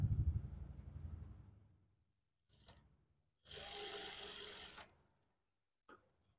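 Sewing machine stitching the seam of a cotton kurti, a short close mechanical whir after some handling noise, then a couple of brief taps, with no talk.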